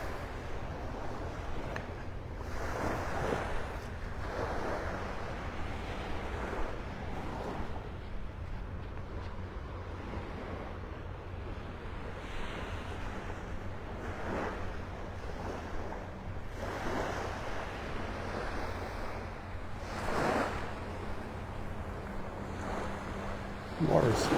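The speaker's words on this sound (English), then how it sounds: "A few little ripples here, a few little waves lapping up on the shore." Small, gentle waves lap on a calm Florida beach shore at Clam Pass Park in North Naples, soft repeated washes rising and falling every few seconds over steady wind noise.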